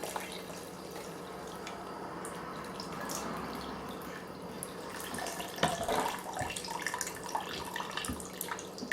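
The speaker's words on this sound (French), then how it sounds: "Je vais juste verser le tout dans un big jug." Tea poured into a big jug, a soft, trickling liquid pour with faint splashing, quiet and close, rising slightly toward the end, with no voices.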